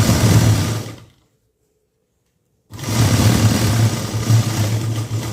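Sewing machine stitching a blouse lining in a tailoring class, running loud and close in a steady whir, stopping for over a second of silence, then starting up again.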